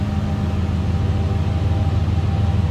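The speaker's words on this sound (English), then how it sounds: "Slip around the back so you hear this run." A 2006 Dodge Ram 1500 SLT 4x4 idles steadily, heard from behind the truck as a deep, even low rumble with a constant faint hiss.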